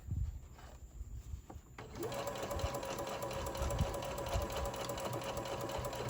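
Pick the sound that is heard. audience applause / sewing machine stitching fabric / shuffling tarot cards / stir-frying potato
sewing machine stitching fabric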